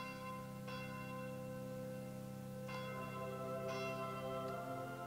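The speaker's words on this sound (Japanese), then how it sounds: "この鐘なんで鳴らしてるんだ" Church bell tolling in Fire Emblem Echoes, three slow resonant strikes with long ringing decays that overlap over a soft sustained tone.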